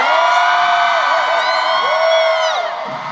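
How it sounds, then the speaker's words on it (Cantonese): A live concert audience cheering and screaming in high, sustained whoops that swell and fade over a few seconds, loud and close, with no clear clapping. "我覺得掌聲或者呼聲唔止咁少啊。"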